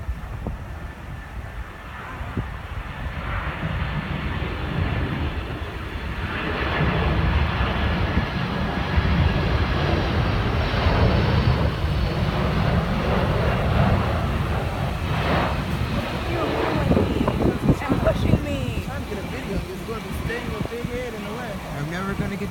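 United Boeing 767-300 coming in to land at Washington Dulles (IAD), a broad steady jet engine roar that swells and lingers under wind buffeting, while nearby people talk throughout.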